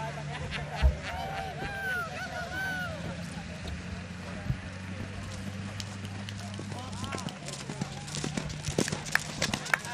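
A horse's hooves clip-clopping on ground amid outdoor ambience and a low hum, with people talking in the background, at a farm horse race meeting.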